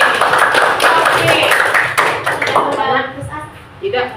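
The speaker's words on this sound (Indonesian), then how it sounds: "tepuk tangan dulu untuk kelompok B" Applause for group B in a school classroom, a burst of clapping and tapping from students with voices mixed in, fading toward the end as someone speaks briefly.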